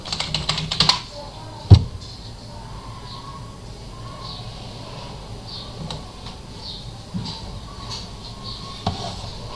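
Computer keyboard keys typed in short bursts while entering a password during a Rocky Linux 8 installation on Hyper-V, light clicks over a steady room hum with one louder knock near the start.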